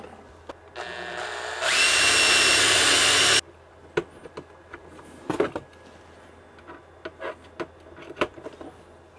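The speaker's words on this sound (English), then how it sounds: "So what I do is drill some holes" A power drill bores holes in alloy strips for a sailboat deck wash pump mount, a loud, steady whine lasting under two seconds after a brief spin-up, followed by quiet clicks and handling noises.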